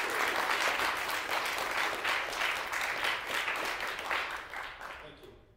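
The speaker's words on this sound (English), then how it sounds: "First of all, a round of applause for this amazing family." Audience at a university airborne design review applauds a presenting team, a dense burst of many hands clapping that stays full for several seconds, then tapers off and fades near the end.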